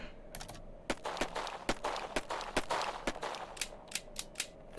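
Gunfire from a pistol in the video game The Coffin of Andy and Leyley, a rapid string of about a dozen sharp, snappy shots in uneven rhythm as the weapon is emptied.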